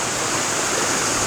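Steady, loud rush of falling water at Cascadilla Gorge in Ithaca, a smaller waterfall with a wide base and water pouring down only one side, a constant broadband roar with no breaks.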